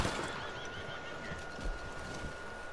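Horse neighing in the video game Elden Ring, a loud, steady whinny running through the whole moment over dense game background noise, with no voices.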